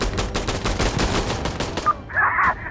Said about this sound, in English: Just watching his body get pelted with bullets.